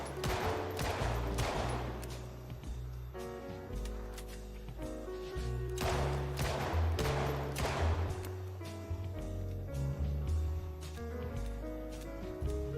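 A 9mm pistol fires in the zombie survival game Project Zomboid, with clusters of sharp, rapid shots in bursts over tonal game music.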